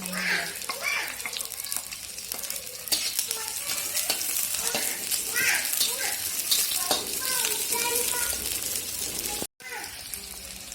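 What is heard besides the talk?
garlic and shallots frying in a pan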